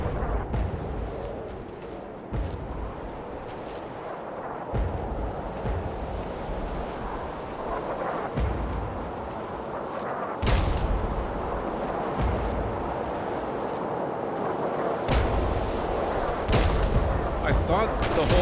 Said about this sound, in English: I thought the whole point of getting rid of those guns was to stop all this shelling